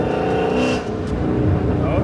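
Dodge Hellcat fitted with a Formula Z pipe exhaust, revving loudly and steadily up close, its deep engine roar held at high RPM for the whole short stretch.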